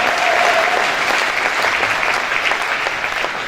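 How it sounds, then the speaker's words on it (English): Conference audience applause, a thick, continuous crowd of clapping hands, loud and steady through the short stretch. "Give them a huge round of applause"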